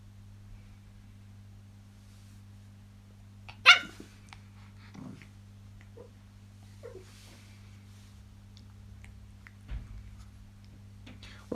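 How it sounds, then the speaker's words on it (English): A puppy barks in the background with one sharp yap, then a few softer whimpers and a low thump later on, all over a steady low electrical hum in an otherwise quiet room with no talking. "Try and ignore the puppy noises in the background."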